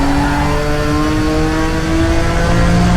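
A Nissan R32 GT-R engine holds steady on the rev limiter during a hot lap at Bathurst, a loud, continuous high-pitched drone with stacked harmonics and no gear change, close and alone.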